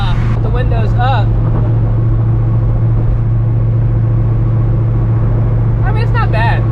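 Inside a cammed, ProCharged 1999 Mustang GT cruising with the windows down, a steady low exhaust drone hums without a break, while someone talks over it at the start and the end.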